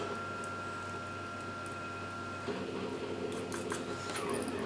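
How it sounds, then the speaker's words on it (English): A 3D printer running noisily, printing parts for a double Fairlie locomotive kit, giving off a steady whirring motor hum with a thin whine, then busier buzzing and light clicks in the later seconds. "Printer's quite noisy today."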